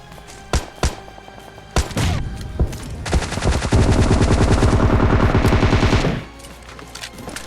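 Gunfire in the mobile battle royale game PUBG Mobile: scattered single loud shots, then a sustained rapid automatic burst lasting about three seconds, followed by more isolated shots, close and punchy with no talking.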